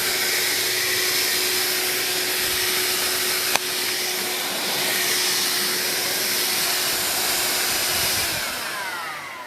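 A Vax Air Cordless Lift Duo vacuum cleaner runs on stairs with a loud, steady motor whine that holds constant for several seconds, a small bump partway through, then eases slightly near the end.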